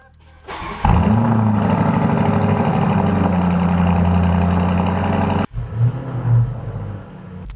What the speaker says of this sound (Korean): 요거 누르면 시동 걸리는 요 버튼들 한번 걸어볼까?